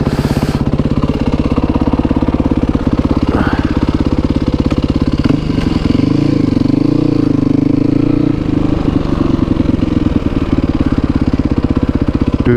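A Yamaha WR450F motorcycle fitted with a new exhaust baffle runs steadily and loudly throughout, its deep, throbbing engine note holding close with a brief rise in revs partway through and no talking over it.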